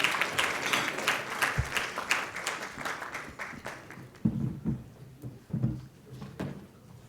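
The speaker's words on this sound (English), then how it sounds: "Let's give them a round of applause." Applause from a conference audience at a closing plenary, a steady patter of many hands clapping that thins out toward the end, with a few louder claps standing out near the close.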